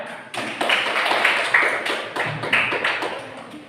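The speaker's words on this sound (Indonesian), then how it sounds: "Kasih beri tepuk tangan ya." A crowd applauds steadily, many hands clapping together in a dense, continuous patter that swells and holds for several seconds.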